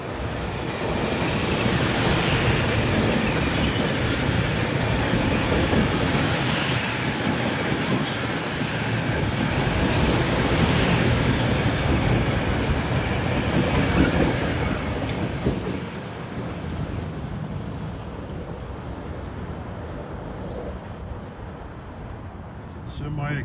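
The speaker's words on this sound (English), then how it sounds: "Here's train 745 for Croton Harmon with M3As" Metro-North train 745 for Croton-Harmon, a semi-express made up of M3A cars, rolls past in New York City with a loud, steady broadband roar that eases and thins out over the last several seconds.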